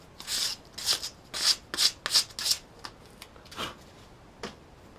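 A file cuts a bevel onto a wooden handle for a wood stove. Six loud, close rasping strokes in a quick rhythm are followed by a few fainter, sparser scrapes.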